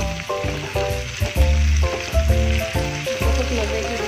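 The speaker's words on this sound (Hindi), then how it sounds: "आलू की कटिंग, फ्राइज जैसे बनाते हैं ना उस शेप में कटिंग हुआ वो डालेंगे। इसको भी हल्का सा साथ फ्राई करेंगे।" Potato pieces cut like fries sizzle in hot oil in a pan for an omelette, a loud close crackling fry with stirring clinks and scrapes over it.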